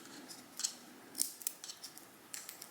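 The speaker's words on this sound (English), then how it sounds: "Let's go ahead and peel these stickers." Protective plastic film is peeled off a new Eufy security camera, giving faint, close crinkly crackles and a few sharp ticks in an otherwise quiet room.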